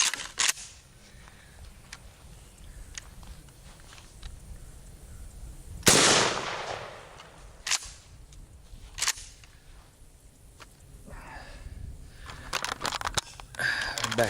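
A Mossberg 500 12-gauge shotgun firing a wax slug at a water jug about 30 feet away, heard as one loud sharp blast midway through, followed by quieter thumps and clicks, with no talking.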